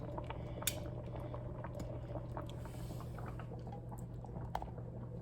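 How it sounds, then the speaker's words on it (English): Ham and bean soup simmers in a cast iron Dutch oven after a couple of hours of boiling, a quiet, steady bubbling with occasional soft clinks of a utensil against the pot. "So my soup is now boiled for a couple hours."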